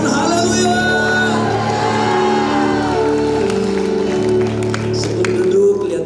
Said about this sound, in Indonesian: Beri tepuk tangan yang paling baik, yang paling meriah buat Tuhan, sambil serahkan haleluya.